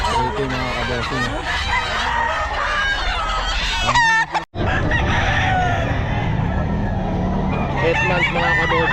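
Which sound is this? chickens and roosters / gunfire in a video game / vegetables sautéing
chickens and roosters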